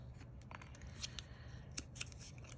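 Scissors trim a layered paper craft tag after gluing, giving a few soft, quiet snips close to the mic over faint background hiss.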